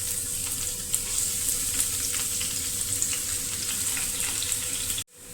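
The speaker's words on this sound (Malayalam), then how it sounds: "രണ്ട് സ്പൂൺ വെളിച്ചെണ്ണ ഒഴിച്ചിട്ടുണ്ട് അതിലേക്ക് നമുക്ക് ഒരു മൂന്ന് ചുള ഉള്ളി മൂപ്പിക്കാനായിട്ട് ഇട്ട് കൊടുക്കാം" Shallots sizzle steadily in hot coconut oil, a dense, close frying hiss running unbroken for about five seconds before cutting off abruptly near the end.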